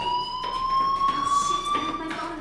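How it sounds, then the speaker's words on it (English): A school fire alarm ringing in the video game Life is Strange, a continuous loud electronic tone that holds steady throughout with faint background sounds underneath. "Hey, do you hear that fire alarm?"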